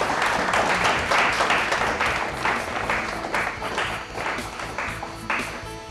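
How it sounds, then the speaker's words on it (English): Studio audience applause closing a school science quiz show, a round of clapping where individual claps stand out in an uneven rhythm, starting full and tapering gradually quieter. "a big round of applause for them"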